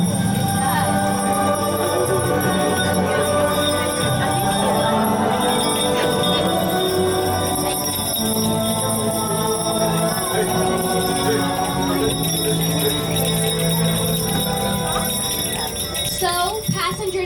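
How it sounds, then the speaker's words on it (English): Many small handbells jingle continuously and fairly loudly as children ring them aboard a Polar Express holiday train ride in Whippany, New Jersey, with voices chattering throughout. "Everybody ring your bells really loud for Santa."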